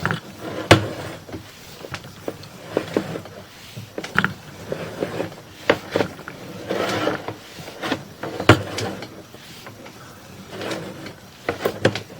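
A sewer inspection camera on its cable is drawn back through a 6-inch clay pipe under a street, giving irregular scraping, clicking and knocking with sharp clacks, mechanical and close, with no talking.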